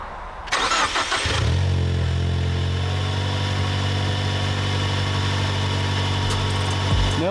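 A built car engine, previously leaking coolant, cranks and catches after coolant is added, then settles into a loud steady idle with a deep low hum that carries through to the end, close and with no talk.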